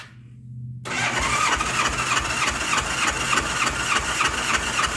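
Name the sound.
Honda Goldwing engine cranking during compression test, spark plugs out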